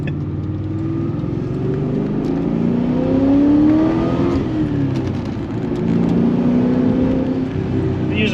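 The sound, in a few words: car engine revving with 3 inch exhaust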